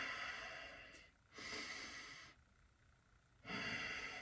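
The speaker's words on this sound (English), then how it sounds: "you're breathing through your nose" Slow nasal breathing with a few long, airy inhales and exhales separated by short pauses, close and fairly quiet.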